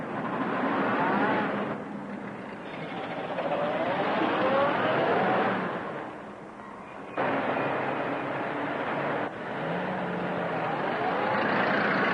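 A vintage car drives off, engine revving loudly then shifting pitch as it pulls away, with abrupt changes in engine note and a steady roar throughout.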